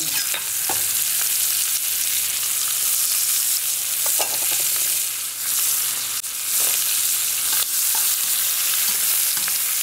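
Chopped onions sizzle loudly in a pot next to seared brisket, a dense continuous hiss up close, broken now and then by the scrape and clink of stirring.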